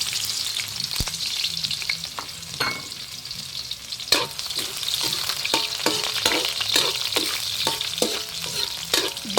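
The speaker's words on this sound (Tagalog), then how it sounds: "Gisa ang sibuyas at bawang. Antayin magpula-pula." Onion and garlic sautéing in hot cooking oil, a continuous bright sizzle punctuated by regular scraping and tapping of a utensil stirring the pan.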